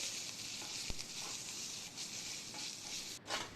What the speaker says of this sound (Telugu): ఫస్ట్ క్యాప్సికమ్ని కొద్దిగా ఆయిల్లో ఒక టూ మినిట్స్ ఫ్రై చేసి పక్కకు పెట్టుకోవాలి